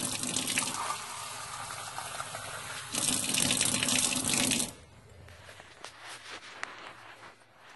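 Tap water runs from a faucet into a sink in a loud gushing stream that surges stronger midway, then stops, leaving quieter drips and light handling noises.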